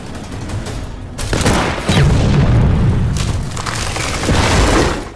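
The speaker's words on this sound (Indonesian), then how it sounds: "Igora pun menggunakan senapan Scud untuk menembak mortir tepat sebelum pasukan tank Jerman berhasil melewatinya" A rifle shot strikes a mortar in a war film battle scene, setting off a heavy booming explosion with rolling, rumbling blasts that swell and linger loudly.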